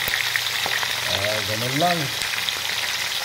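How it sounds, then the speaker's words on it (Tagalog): Food fries in a pan with a steady, close crackling sizzle throughout, while a voice speaks briefly over it. "Prito na natin."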